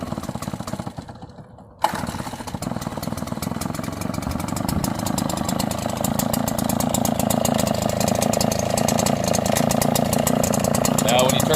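A commercial lawn mower engine catches after a short quiet pull, then runs steadily and loudly near by, its chugging hum building slightly as it settles into a sustained idle.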